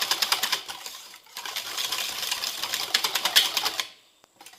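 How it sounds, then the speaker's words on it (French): Egg yolks, oil and milk are whisked together for cake batter in a bowl, with rapid, rhythmic tapping and clicking of the whisk close up, pausing briefly before stopping near the end. "Donc il faut déjà bien fouetter ce mélange, simplement."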